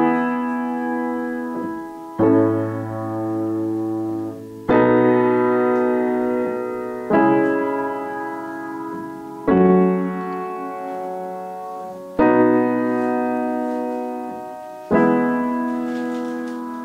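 A very simple phrase of plain block chords with no cadential 6-4 chords, played as six sustained chord strikes about every two and a half seconds, each swelling then slowly decaying, clear and alone with no talking.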